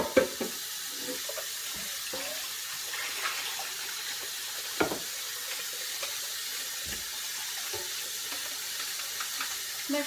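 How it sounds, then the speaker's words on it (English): Cold tap water runs steadily into a kitchen sink over cooked beef, a constant close splashing hiss with a few brief clunks and knocks scattered throughout. "Take it to the sink and pour it down."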